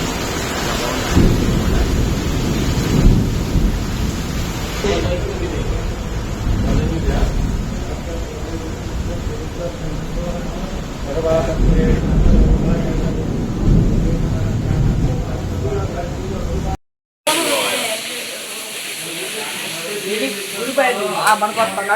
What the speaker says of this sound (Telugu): ఇప్పుడు వర్షం మాత్రం చూస్తాను, చాలా బాగుంది.